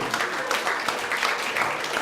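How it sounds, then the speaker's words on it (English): A comedy club audience applauds at the close of a stand-up set, steady dense clapping at moderate level for the whole stretch. "Marc Ragovin, clap it"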